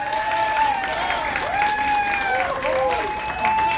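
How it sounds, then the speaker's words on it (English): Audience applause at a chamber of commerce awards event, a steady wash of clapping from the crowd beneath prominent sustained music tones, with voices present. "Don't stop clapping"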